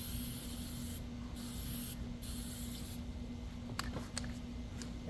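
Waterproofing spray hissing in bursts onto the seams of an 8-man cabin tent, with a steady background hum and a few sharp clicks and rustles near the end.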